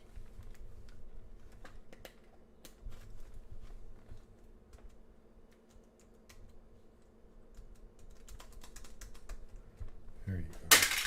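Typing on a computer keyboard during a forex trading session, a steady run of light clicking keystrokes at close range, with a louder burst of activity near the end.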